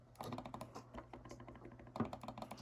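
Buttons on a PlayStation 5 DualSense controller are pressed in quick succession, producing a close, crisp series of clicky taps with a few slightly heavier presses near the end.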